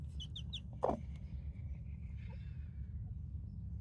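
A hen with chicks in a farm setting, a few high chick peeps and a short cluck over a steady low background hum, fairly faint.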